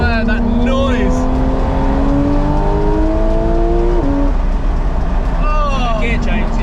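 Up close, a Porsche 911 GT3 RS Weissach engine revs hard and high, climbing through a gear with a crisp shift midway, while excited voices break in briefly.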